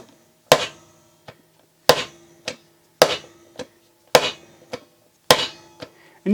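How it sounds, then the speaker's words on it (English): Five sharp, loud hammer blows land at a steady pace on a Wera Kraftform Kompakt 900 impact screwdriver, each crack followed by a smaller rebound tap and a brief ringing decay. "So now I get that impact. Grab my hammer here."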